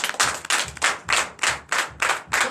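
Steady rhythmic hand clapping at a Sunday church service in Benin, about two claps per second, close and fairly loud, with no voices.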